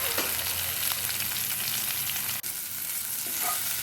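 Green chili peppers fry in a pan for a mirchi fry, a constant close hiss of hot oil with a few soft stirring scrapes and one brief dropout partway through.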